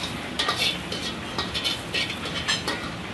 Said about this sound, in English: So you put it in a hot wok, right, slowly cooking